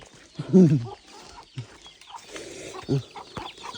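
Chickens cluck nearby, a few soft bursts over a murmuring farmyard background with faint voices.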